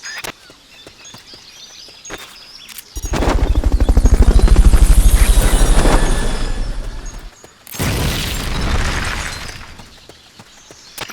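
Fulton recovery helicopter sequence in Metal Gear Solid: Peace Walker, a loud, dense rapid rotor-like rattle that swells, cuts off abruptly, then resumes, with sharp clanks and bursts before it, no speech.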